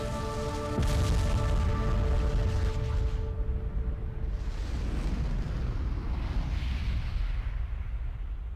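A huge blast erupts in the video game Asura's Wrath, a booming burst followed by a long, loud roaring rumble that slowly settles, with no voices.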